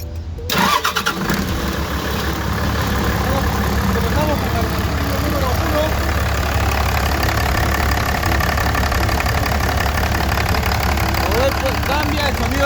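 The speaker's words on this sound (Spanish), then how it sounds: "Por eso le vamos a dar arranque al motor." Car engine cranking and catching during engine diagnostic testing, then running steadily at a loud, rough idle for the rest of the stretch, with people talking over it.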